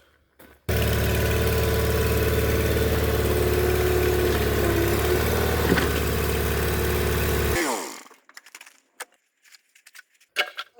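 A Case Ingersoll lawn tractor engine runs steadily and loudly at idle, then cuts off abruptly, leaving near silence with a few faint clicks and knocks.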